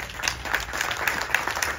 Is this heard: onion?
no